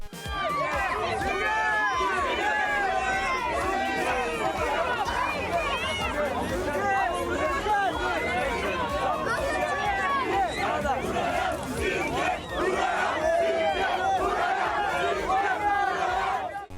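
Fans of a singer cheering and shouting in a dense, loud crowd at a Cappadocia balloon and culture festival, a continuous roar of many overlapping voices with excited calls throughout.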